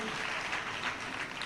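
Audience at a spiritual talk breaking into applause, a dense, even patter of clapping from many people, moderately loud and sustained for a brief stretch.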